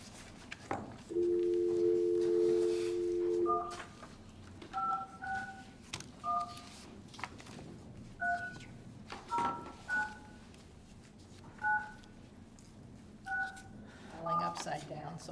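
Telephone keypad tones dialing out for a call during a city council meeting: a long dial tone, then a series of short, separate two-tone beeps spaced irregularly, with faint room noise and light handling sounds between them.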